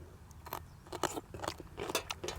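Someone bites into crispy fried pork tail and fried quail, producing a string of close, crackling crunches and chewing sounds in an uneven rhythm, with no talking.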